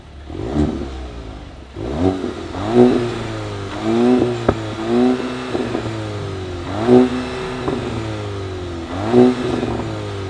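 A 2022 VW Golf GTI and a 2022 Hyundai Kona N rev their engines before a quarter-mile drag race, with repeated rising and falling surges over a steady idle rumble, loud and close.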